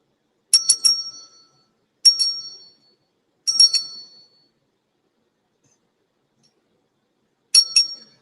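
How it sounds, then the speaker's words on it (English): A small high-pitched bell rings in quick bright bursts, each strike a double chime with a short decaying ring, separated by silent pauses, heard alone and close. "Ring the bell 3 times."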